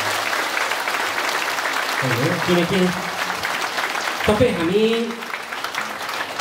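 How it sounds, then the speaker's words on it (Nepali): Congregation applauding at a church gathering, a steady wash of clapping throughout while someone speaks over it. "हो भने एकचोटि जोरदार तालीले सम्मान"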